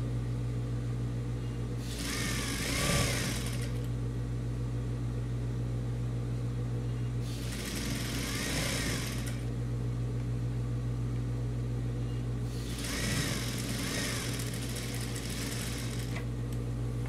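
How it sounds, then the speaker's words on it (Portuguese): A sewing machine stitches the edge of a patchwork rug in three separate runs of a few seconds each, its whirring bursts rising over a constant low electrical hum with quiet gaps between. "Uma costurinha aqui em toda a extremidade para fazer o acabamento."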